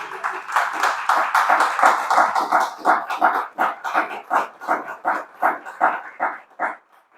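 Congregation at a Saturday church service clapping together in a steady, rhythmic beat, loud and close, continuing for several seconds with a slight slowing toward the end.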